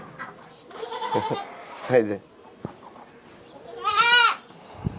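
Beetal goats bleat several times in wavering, nasal cries at a goat farm, with people talking nearby between and under the calls.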